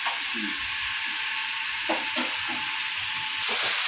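Continuous frying sizzle in a pan while sautéing for a goat trotter curry, a bright steady hiss with occasional faint clinks and stirring sounds underneath.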